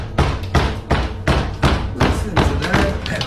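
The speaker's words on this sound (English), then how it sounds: "Loud knocks are heard, as if someone is banging on the door loudly." Loud, heavy knocking bangs on a door, with a series of hard, booming thuds at an irregular beat, close and forceful, in a dark, frightening setting.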